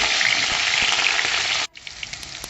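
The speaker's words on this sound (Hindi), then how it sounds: "तो सबसे पहले हम घी में हरी मिर्चों को डाल देंगे" Green chillies dropped into hot ghee give a loud, steady crackling sizzle that cuts off sharply partway through, leaving a quieter spitting hiss with scattered pops.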